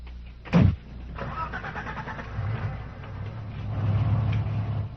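A car engine starts with a sharp crank and catch, then settles into a steady idle that grows slightly louder, close by, with some faint voice in the background.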